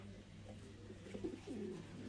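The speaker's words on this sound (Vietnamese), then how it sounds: "đây là bồ câu Titan xịt của Thái nhé" Thai Titan meat pigeons cooing softly in a farm loft, low rolling coos repeating under a steady background hum, faint and close.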